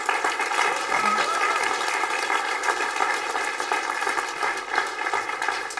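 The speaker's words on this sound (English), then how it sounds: "So let's give them a round of applause." Audience giving a round of applause, a steady wash of clapping sustained for several seconds at even loudness, with a faint humming tone underneath.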